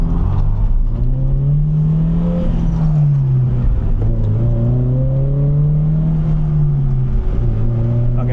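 A Toyota GR86 engine revs up and down in smooth, loud sweeps from inside the cabin, the pitch hanging and easing off slowly between rises while the clutch is let out.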